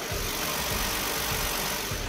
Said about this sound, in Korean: 영상으로 엔진 소음 한번 담아보도록 하겠습니다.